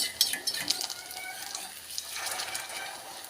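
Small pieces of batter-dipped food are turned over in a small iron pan, giving a few soft metallic taps and scrapes of a utensil against the pan over a low, steady sizzle, with no talking.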